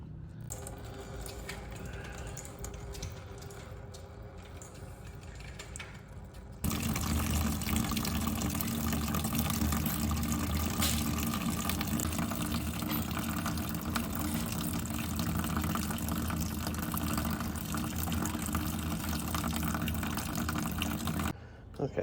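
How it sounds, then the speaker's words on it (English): Coolant drains from a Mercedes-Benz radiator, a quieter trickle at first that swells into a steady, louder gush of liquid pouring out, running continuously until it cuts off at the end. "I'll go ahead and undo that, and that should drain out the coolant"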